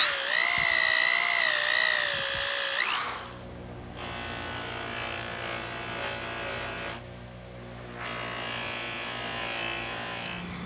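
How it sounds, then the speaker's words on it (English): Electric polisher buffing a vintage Weber air horn, a steady high whine with shifting pitch at first, then a lower grinding hum that dips and swells as the tool is pressed into the metal. "I can hardly get that polisher down in there without letting go"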